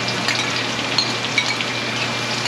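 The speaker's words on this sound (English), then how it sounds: "So now I'm gonna start my stir frying process." Vegetable chow mein stir-frying in hot oil, a steady broadband sizzle with faint crackles and pops, continuous and close with no talk.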